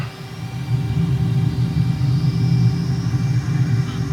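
Simulated aircraft engine in a flight simulator during a fast touch-and-go at Bankstown Airport near Sydney, a loud steady low rumbling drone that swells slightly, with no talk.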